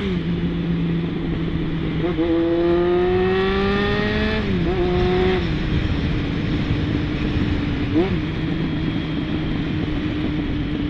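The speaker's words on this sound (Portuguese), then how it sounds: "Freio motor aqui" A heavy truck descends the Serra do Mar on the Via Anchieta under engine braking, its engine note droning and rising in pitch with a couple of shifts, continuous and fairly close amid traffic.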